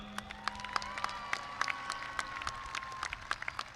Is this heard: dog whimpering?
no